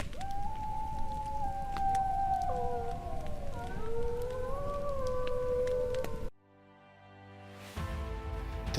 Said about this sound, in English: Soon we found out that we had been surrounded by wolves.